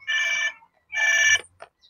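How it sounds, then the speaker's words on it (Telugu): A toy telephone rings in two bright electronic bursts separated by a short pause, close and clear, followed by a faint click. "ఫోన్ చేసుకున్నాను సోని."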